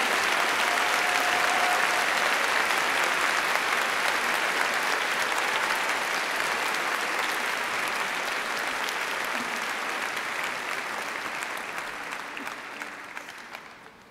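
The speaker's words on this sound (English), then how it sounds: "Please join me in a round of applause for the graduates." Long, steady applause from a large audience for mathematics graduates at a university faculty commemoration day ceremony, dense and even before slowly tapering off at the end.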